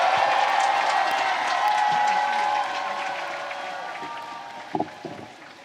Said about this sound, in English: let us show our support through loud round of applause